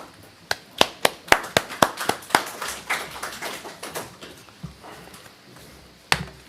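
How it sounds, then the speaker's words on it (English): Scattered clapping at a city council meeting in Hutchinson, Kansas: a short run of sharp, evenly spaced claps from a few people close by that thins out into sparse taps, ending with one last clap. "I don't know if they were clapping for Lacey or for your comment, Stacy."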